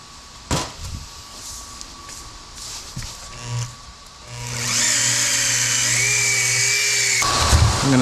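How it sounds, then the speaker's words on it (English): A buffer polisher spins up and runs steadily while wiping old polish off badly trashed car paint, a loud, continuous whirring hum following a few knocks and handling sounds before it stops abruptly. "I'm gonna wipe this old polish off with this buffer here."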